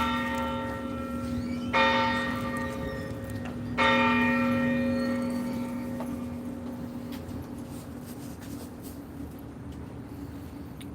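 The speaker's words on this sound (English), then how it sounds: "There's the bell." A church bell tolls at ten o'clock in resonant strokes a couple of seconds apart, each ringing out and slowly decaying over a steady background hum.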